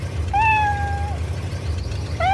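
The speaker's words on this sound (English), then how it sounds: "You've heard this little cat." A little cartoon cat meows twice, a drawn-out high mew followed by a shorter one, clear and close over a low rumbling background.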